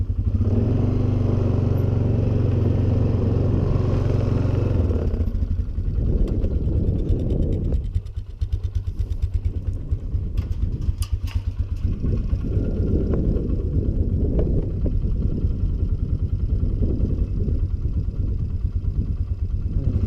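A cold carbureted engine warms up on a farm, running loud and close throughout; a heavy, steady drone shifts to a rougher, clattering idle partway through, with no voices.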